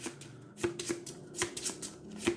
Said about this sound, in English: So we shuffle up.